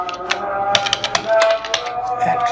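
Typing on a computer keyboard gives a quick, irregular run of close, sharp clicking keystrokes, with a quiet voice speaking softly beneath them.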